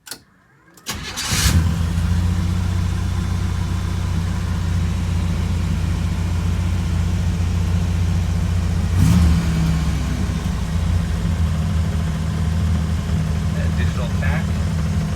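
A Buick 231 V6 swapped into a 1972 Custom Cruiser with a MagnaFlow straight exhaust cranks and fires after about a second, then settles into a loud, steady idle, with one brief rev around the middle and a voice talking faintly underneath.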